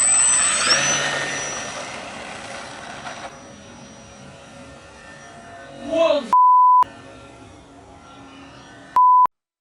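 A light plane engine modeled on a Cessna 152 two-seat trainer, from the GTA video game, holds a steady airy drone that is strongest at the start. Two loud, sharp electronic beeps cut in near the end.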